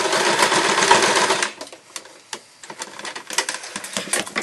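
A sewing machine stitches puppet fabric backwards and forwards, a rapid close mechanical whirr for about a second and a half, then short stop-start bursts of quick needle ticking.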